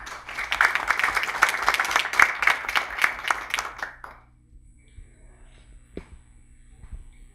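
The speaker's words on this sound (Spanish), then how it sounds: "Lo recibimos con un fuerte voto de aplauso." Audience applause welcoming a speaker at a lecture on alternatives to pretrial detention, a dense burst of clapping for about four seconds that fades into a quiet room with a faint knock.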